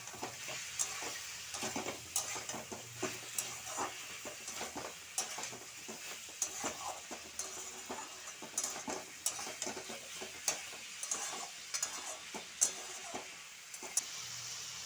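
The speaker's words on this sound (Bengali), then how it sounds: "দিয়ে আরও কিছুক্ষণ একটু ভেজে নিচ্ছি মশলাটার সঙ্গে" Chicken pieces frying in a pan with masala, chilli powder and sugar, a soft, steady sizzle broken by repeated scraping and stirring clicks, close but fairly quiet.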